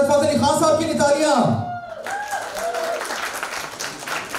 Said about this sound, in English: So hard to get claps out of you.